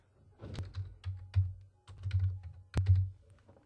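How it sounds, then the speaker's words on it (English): Someone types on a computer keyboard, a quick run of soft clustered key taps broken by short pauses, with one sharper, louder keystroke near the end, close and otherwise quiet. "type in the name of a group I'm familiar with"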